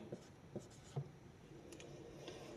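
Pen or marker writing out a maths equation for a class 9 lesson, a quiet series of short scratchy strokes with small taps, faint and close, with no speech.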